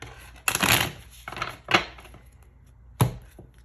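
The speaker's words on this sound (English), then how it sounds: "shuffle the cards" Three bursts of papery tarot cards being riffled and shuffled, with short pauses between, close and fairly loud.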